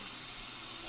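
A running sink in the horror game Sucker for Love gives a steady, close hiss of flowing water, with no other sounds over it.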